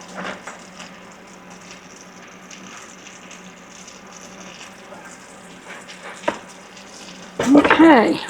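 Butter sizzling in a frying pan, a soft crackling fry with low hiss throughout, joined near the end by a louder burst of sizzling and a clatter; a person talks briefly.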